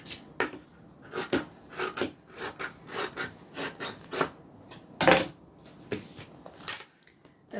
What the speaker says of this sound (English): now what we're going to do is trim the bottom.